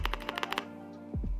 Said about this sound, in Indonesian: Dan sandwich keyboard yang dibikin sama Nuvi bikin suara ini jadi toki banget nih